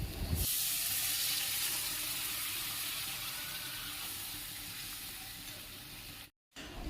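Spiced masala for a Bengali sea pomfret (chanda fish) curry, cooked with Kashmiri chilli powder, hisses and sizzles steadily in a pan as water goes in, a broad close steam-like wash that cuts off briefly near the end.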